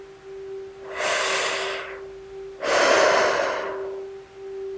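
Slow, deep breathing during meditation: two long airy breaths, each swelling and fading over about a second and a half, close to the microphone over a faint steady hum, with no talking.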